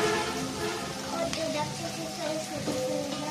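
Onions and garam masala frying in a pan for a beef liver and jackfruit seed bhuna, a steady close sizzle with faint stirring throughout.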